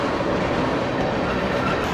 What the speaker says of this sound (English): There have been trains going non-stop since we got here.